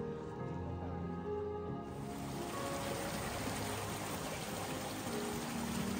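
A mountain stream on Mt. Apo rushes steadily close by, a constant broadband babble of flowing water; faint tonal sounds fade out early on.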